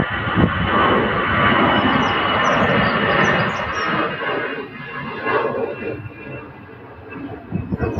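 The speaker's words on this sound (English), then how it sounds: "Another EasyJet takes off." EasyJet airliner taking off at Manchester Airport, a loud sustained roar of jet engines heard from a distance, swelling and then slowly fading over several seconds with no talking.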